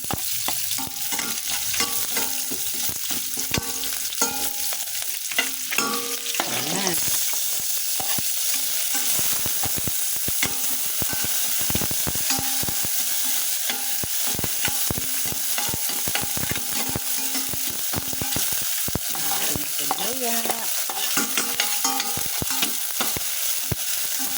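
Maya maya fish sizzles and crackles steadily in hot oil in a pan, with stirring and scraping noises over continuous frying, close and fairly loud throughout.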